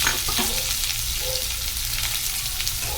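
Onions frying in a pan for masala puri, a steady close sizzle with a few scraping stirs near the start, no voices over it.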